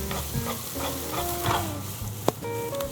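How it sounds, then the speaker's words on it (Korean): Green onion, garlic and ginger stir-fry in a generous pour of hot oil in a preheated pan, a loud close sizzle with repeated scraping strokes and one sharp clack, no voices. "예열된 팬에 대파, 마늘, 생강 향이 충분하게 배어나오도록"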